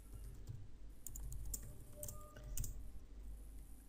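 Someone types on a computer keyboard, producing a quiet, steady run of soft key taps in short bursts, close by and alone.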